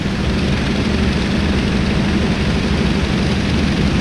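An Antonov An-2 radial propeller engine in a PC flight simulator drones loudly and continuously at steady cruise power, a dense unbroken roar with no talk.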